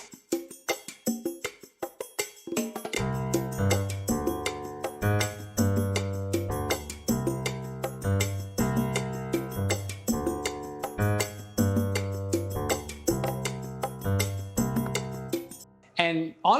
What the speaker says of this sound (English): the bass line would sound like this